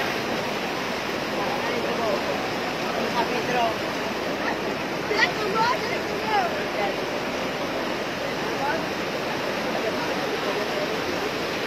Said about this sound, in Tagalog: Grabe naman yung mga tubig, uy.